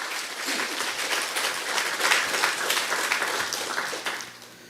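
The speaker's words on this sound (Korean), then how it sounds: "우리 주님께 영광과 감사의 박수를 드립니다." A church congregation claps together in sustained, steady applause throughout a Sunday Easter worship service, the sound fading slightly at the end.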